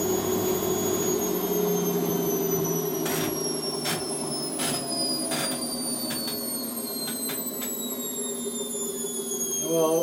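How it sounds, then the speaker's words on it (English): A domestic washing machine running a boil wash, giving a steady mechanical hum with a slowly shifting whine and a few soft clunks from the drum, heard close and continuous. "Right, I'll stick it on the boil wash and go from there."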